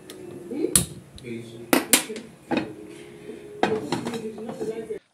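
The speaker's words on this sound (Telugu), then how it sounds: "ఫ్రై చేసుకోవడం కోసం మనం స్టవ్ మీద ప్యాన్ పెట్టి" A metal frying pan set onto a stove for frying fish in a home kitchen, a few sharp clanks and knocks of metal against the burner, with a person talking over it.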